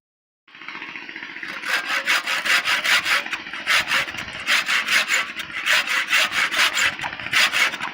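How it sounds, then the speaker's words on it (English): A handsaw cuts through wood in steady back-and-forth strokes, close and loud, with a rasping rhythm that continues without pause. "Filming and sawing at the same time."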